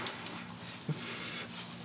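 A dog whimpers faintly at home, with thin high whines rising briefly over a quiet background.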